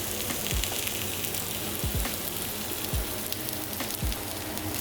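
Lamb kofte fry in a pan with pistachios and melting honey, giving a steady, dense sizzle and crackle close by, with a few soft stirring knocks and no voices.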